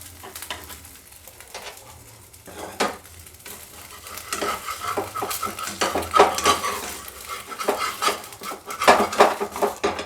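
Kulcha bread cooks in a covered pan and is flipped, with clattering lid and utensil clinks over a soft sizzle that grows busier and louder toward the end.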